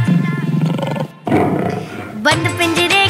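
A deep, growling lion roar rumbles for about two seconds as a sound effect in a Hindi children's rhyme about a toy seller, then upbeat sung music takes over.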